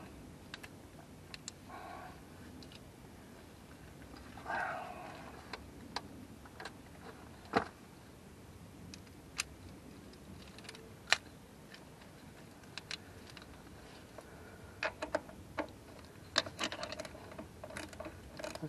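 Extended double-sided ratchet turning a nut while cleaning ground terminals on a 2006 Jeep Commander, giving quiet, irregular ticking clicks spread sparsely across a soft background, close and fairly faint.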